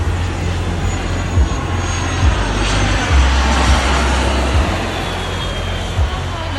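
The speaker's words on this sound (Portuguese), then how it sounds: "que a gente tá na praia, o avião vem vindo" A low-flying airplane roars over a beach right beside the airport in Sint Maarten, a loud, steady engine rumble filling the whole clip, with wind buffeting and no talk.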